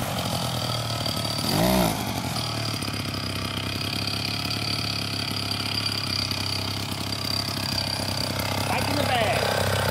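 A 1968 Fuji Industries Go-Devil motorized bike's small Fuji engine runs steadily at a buzzing idle, with a brief louder rev near the start and a constant close rattle throughout.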